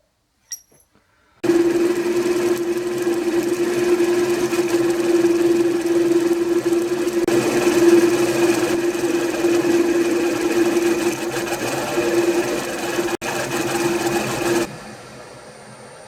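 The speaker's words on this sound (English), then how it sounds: "we'll go down with one of my flat bottom 9mm drills just to get a nice seat for that socket cap screw" A machining tool drilling with a flat-bottom 9mm drill to seat a socket cap screw, a steady loud whirring hum running continuously for about thirteen seconds before stopping, with no talk over it.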